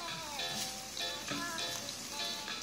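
Carrots are tipped into hot oil already cooking garlic and onion, and a steady sizzle swells with a few stirring scrapes. The frying stays loud and close throughout.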